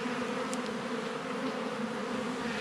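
Honeybees hum and buzz steadily around an open hive during the year's first inspection, a dense close swarm drone filling the whole stretch with no talk.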